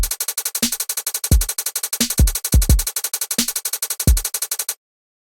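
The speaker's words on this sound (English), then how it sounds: "So you can hear those hi-hats have a bit more shuffle" Programmed drum pattern from an Impact XT pad sequencer with shuffled hi-hats at 30% swing, steady hi-hat ticks over punchy kicks and snare hits, ending in a shuffled kick fill; loud, close and electronic, with no voices.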